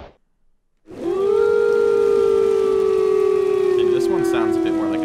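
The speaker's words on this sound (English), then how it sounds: "Sounds a bit more like a siren." A loud, steady tornado siren in a Minecraft game wails, holding a sustained rising tone after a brief silence, continuing strongly with a slight downward drift and some faint higher chirps.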